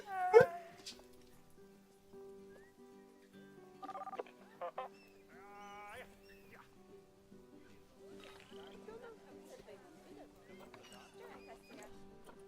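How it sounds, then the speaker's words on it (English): Dogs in a Planet Zoo game yip, whimper and bark in short bursts, loudest at the start and then scattered and fainter over a quiet ambient background. "Hey! Dogs! Stop it."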